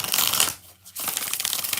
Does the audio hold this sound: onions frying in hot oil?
no